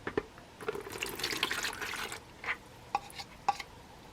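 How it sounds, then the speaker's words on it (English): A finger being swished and rinsed in a small container of water while dyeing fabric with acrylic paint, giving quiet close-up sloshing followed by a few soft separate drips and splashes. "Clean my finger in the water."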